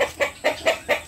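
Native chickens cluck in a steady rhythmic series, five close, distinct clucks about a quarter second apart with no talking.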